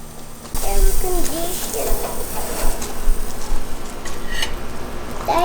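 Steaks sizzle on a gas grill as they are flipped, a steady close hiss with light scraping and clicks throughout.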